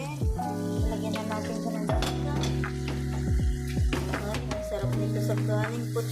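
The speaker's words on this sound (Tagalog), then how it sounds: "Yan, haluin na natin." Chicken adobong puti is stirred in a sizzling pan, with utensils scraping and clinking against the metal amid steady frying, and background music plays underneath.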